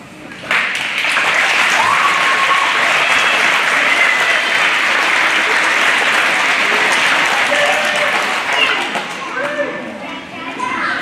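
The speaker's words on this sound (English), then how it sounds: "please stand so that we can honor you with a round of applause as well." People at a Relay cancer fundraiser held as a school recess event applaud caregivers in a long, loud round of clapping, with children's voices and chatter mixed in before it tapers off.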